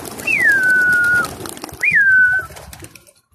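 Pigeons kept in a pigeon loft give two clear rising-then-falling whistled calls, each about a second long, close by over a low rustling background.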